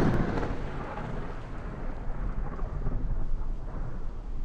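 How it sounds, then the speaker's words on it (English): A thunderstorm with rain fills a scene in the video game The Five Cores Remastered: a dense, steady roar of rainfall with low, rolling thunder rumbling underneath, moderately loud and continuous, and no voices. "It's all stormy now."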